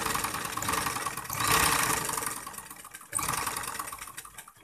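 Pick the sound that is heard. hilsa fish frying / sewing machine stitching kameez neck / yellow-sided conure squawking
sewing machine stitching kameez neck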